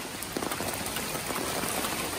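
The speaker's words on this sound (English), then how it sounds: "It's raining so hard." Heavy rain pours down outdoors during a thunderstorm, a dense, steady hiss of drops drumming on surfaces, fairly quiet and unbroken.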